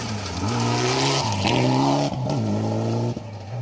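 A rally car roars past on a forest stage of the Cambrian Rally, its engine note loud and close, rising and dropping through gear changes over about three and a half seconds, with a hint of tyre scrub.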